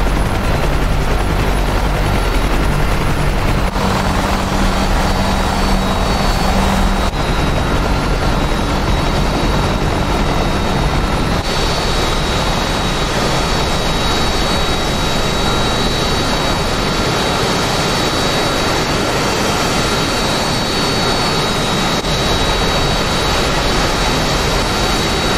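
A jet aircraft takes off in the flight simulator game DCS with a loud, continuous roar that holds steady and shifts in tone partway through as thrust builds, with no talking.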